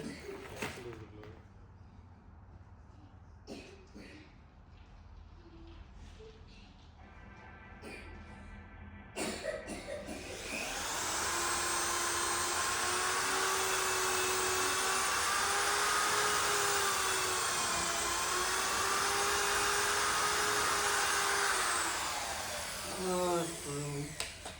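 A power drill bores into a DIY boxing ring frame, a sustained loud whining drone lasting over ten seconds after some earlier knocks and rustling, the motor pitch wavering slightly as it cuts.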